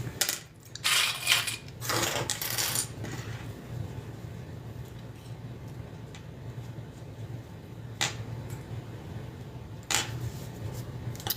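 A metal rectangle ring goes onto a crossbody bag with a few quiet, close clinks and taps of hardware. The clinks come in a small cluster early, then sparse single ticks follow over a low, soft background.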